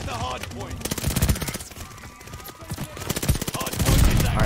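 Rapid automatic gunfire in the video game Call of Duty: Vanguard, loud bursts of close shots running throughout with brief gaps, under a player's voice.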